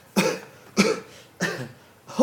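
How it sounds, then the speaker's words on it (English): A man coughs in four sharp, harsh bursts at an even rhythm, each a short explosive hack with a ragged tail, close and clear with quiet gaps between them. "broke into a cough"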